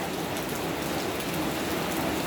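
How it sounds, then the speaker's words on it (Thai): Steady, dense rain pours down during a storm, a continuous close hiss of drops hitting surfaces with no pauses and no voices. "ตอนนี้ฝนตกมาอีกแล้วนะคะ"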